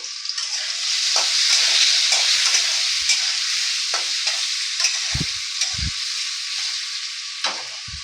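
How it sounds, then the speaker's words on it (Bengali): Potatoes stir-fried with turmeric in a pan, with a crisp, close sizzle broken by repeated scraping and knocking strokes from the spatula, loudest early on and easing slightly later, with no talking. "এবার আমি একটু হলুদ দিয়ে নাড়িয়ে একটু সাঁতলিয়ে নেব।"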